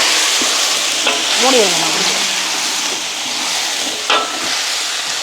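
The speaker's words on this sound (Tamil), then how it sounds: "அப்படி வெங்காயம், பச்சை மிளகாய் வதங்கிட்டு எங்களுக்கு உருளைக்கிழங்கு போடுங்கம்மா" Onion and green chili sauté in a pan with a steady close sizzle and occasional stirring clinks, while someone speaks over the frying.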